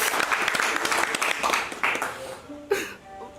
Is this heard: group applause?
yes